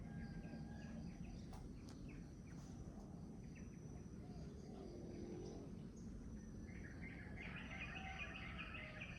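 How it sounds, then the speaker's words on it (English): Birds chirp and tweet intermittently in the distance over a low outdoor rumble, quiet and scattered, with a faint background hum. "Do you guys hear all those birds?"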